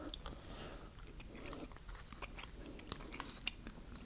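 Cereal from a Canadian IMP Menu 2 MRE breakfast (2018) being chewed up close, a steady run of moist crunching and biting with small sharp crackles throughout, no talking.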